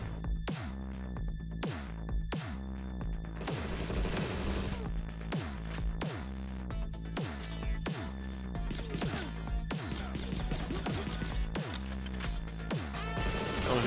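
Bursts of shooter gunfire from the Replicant D6 video game trailer crack out in a rapid, repeated volley of sharp shots and crashes over a throbbing backdrop, with no talking.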